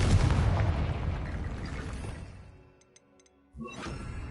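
A Confringo blasting spell in Hogwarts Legacy ends in a heavy explosion that rumbles and decays into near silence, followed by a sharp new burst near the end.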